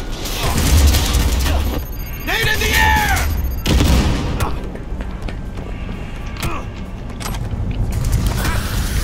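A grenade blast and gunfire in Cyberpunk 2077, with loud booms and crackling shots near the listener, mixed with mechanical creaks and a voice shouting over the chaos.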